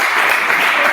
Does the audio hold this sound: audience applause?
yes